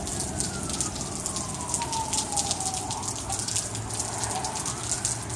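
A fire engine siren wails in a long sweeping tone that rises and falls as it passes at a distance, half-buried under steady heavy rain on a rainy day in Arizona.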